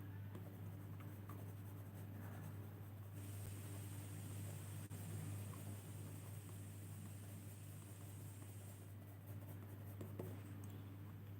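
Soft graphite pencil shading across paper while drawing a portrait of a bearded face, a continuous quiet scratching texture over a steady low hum, close and faint.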